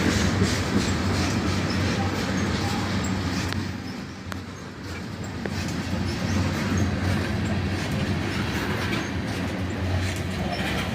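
A freight train rolls slowly through Carlisle as it sheds speed, a steady loud rumble of wheels with faint clacking and occasional squeals, the cars passing close by throughout.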